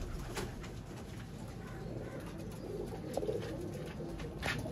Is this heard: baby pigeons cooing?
yes